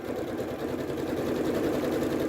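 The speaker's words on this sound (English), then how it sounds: "and then I would sew my seam down the middle" A Janome sewing machine runs steadily while stitching a gathering row, giving a continuous close motor whir with a fast, even needle rhythm and no pauses.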